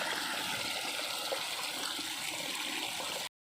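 Irrigation water rushes steadily along a field channel on a farm, a close, even hiss and gurgle that continues without pause and then cuts off abruptly.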